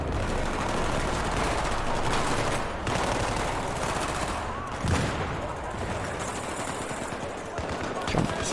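Gunfire in the Battlefield 3 co-op mission The Eleventh Hour on hard difficulty: dense automatic bursts and scattered shots rattle almost continuously, loud and close, with a few sharper cracks near the end.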